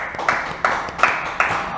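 An audience claps in a steady rhythm at a school talk event, with evenly spaced group claps landing about three times per second at moderate loudness.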